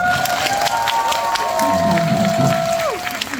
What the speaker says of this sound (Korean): 여러분 오 감독님께 박수 한 번 부탁드립니다